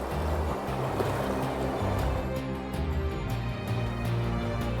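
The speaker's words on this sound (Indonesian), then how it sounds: "Perahu yang sudah kosong pun bisa melewati Riam dengan aman." A boat, emptied of passengers, runs through river rapids, its motor droning low and steady under a continuous wash of rushing water for the whole stretch.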